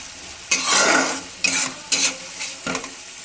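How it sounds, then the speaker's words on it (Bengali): Marinated chicken going into spiced masala with methi in a hot pan, loud bursts of sizzling and stirring in several surges over a constant frying hiss, close and alone. "ম্যারিনেশন করা চিকেনগুলো আমি এর মধ্যে দিয়ে দিলাম"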